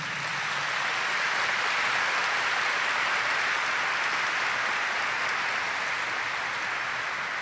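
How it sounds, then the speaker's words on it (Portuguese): A church congregation applauds Our Lady of Nazareth during a Mass homily, a continuous, even wash of many hands clapping at moderate volume, unbroken by speech for over seven seconds. "Ela merece uma salva de palmas"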